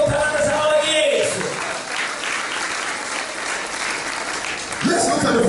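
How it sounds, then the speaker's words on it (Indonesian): Church congregation applauding Jesus during a bilingual sermon, a loud sustained burst of clapping that tapers slightly, with a voice briefly speaking near the start and again at the end. "Put your hands together for Mari Jesus."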